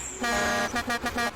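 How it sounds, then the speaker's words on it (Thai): A loud, brassy combine harvester horn in Farming Simulator 19 blares, one long honk followed by three quick shorter toots in a steady rhythm. "แหมเสียงแตรเนี่ยเท่มากเลยนะฮะ"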